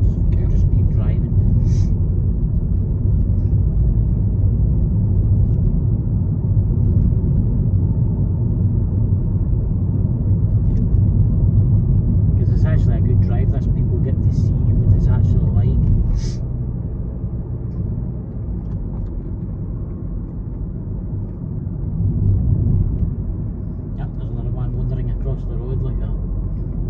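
A car drives along with a steady low engine and road rumble heard from inside the cabin, continuous for the whole stretch and easing slightly partway through.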